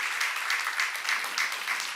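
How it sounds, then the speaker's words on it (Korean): Steady applause from a church congregation praising God's creation, dense clapping sustained without a break, no voices standing out. "박수로 하나님의 창조를 찬양하는 거예요"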